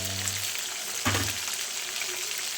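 Garlic dropped into hot oil with asafoetida, giving a steady bright sizzle and crackle with a sharp burst of frying as the cloves hit the pan, close and continuous with no voices.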